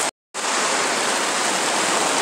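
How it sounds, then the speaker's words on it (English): Heavy rain pours down outdoors in a loud, dense, constant roar after a split second of silence at the very start. "It's been raining for like 20 minutes."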